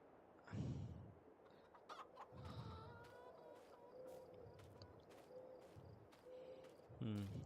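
Farmyard chickens in the Farming Simulator 22 video game cluck and squawk in short, irregular bursts, fairly quiet and close, with a few sharper calls standing out over a soft ambient background.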